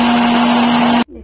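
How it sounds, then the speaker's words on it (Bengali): A kitchen mixer grinder runs loudly on roasted peanuts and roasted chana, with a steady motor whine that cuts off abruptly near the end, leaving a faint tail. "ভেজে রাখা মুগফলিগুলো মিক্সিতে পিষে নেব, সাথে ভাজা চানা অ্যাড করে নিলাম"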